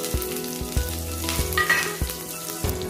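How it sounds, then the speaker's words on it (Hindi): Green chillies sizzle and fry in ginger garlic paste in a pan, a steady loud crackle with repeated sharp knocks from a spoon or the pan, heard alone with no talk. "मैंने इसमें जिंजर गार्लिक पेस्ट डाला, थोड़ा सा ये फ्राई हो जाए, और अब मैं इसमें मिर्ची डाल रही हूँ अपनी।"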